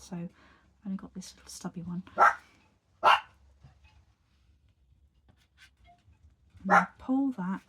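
A dog barks sharply a few times in the background while a person talks nearby, the barks loud and spaced apart.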